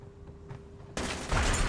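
A sudden dense burst of rapid gunfire from Call of Duty Mobile, fighting zombies and a boss, erupts after a quieter stretch and stays loud and continuous to the end.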